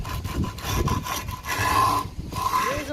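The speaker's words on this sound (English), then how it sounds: "make sure it's actually filing down the grip tape" A hand file scraping grip tape along the edge of a scooter deck under firm pressure, giving repeated rasping strokes close up with a steady rubbing rhythm.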